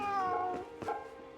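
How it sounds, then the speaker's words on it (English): A cat meows in the video game Fate/Samurai Remnant, giving two short, clear, close meows in quick succession, with no speech over them. "Ooh, kitty."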